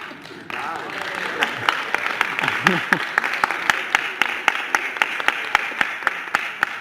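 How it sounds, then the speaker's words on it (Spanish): An audience at a science talk on X-ray discovery and cathode rays claps, with a steady, evenly spaced beat of sharp claps over a low background hiss that grows more regular as it continues. "este aplauso va para Crookes"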